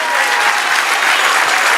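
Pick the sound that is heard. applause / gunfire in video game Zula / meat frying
applause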